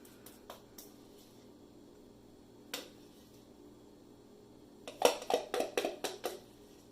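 Soap batter being spooned onto the top of a lemon poppyseed and bamboo sugar cane cold process soap, a few light scrapes and taps early on, then a quick flurry of clinking spoon knocks against the container near the end, close and crisp.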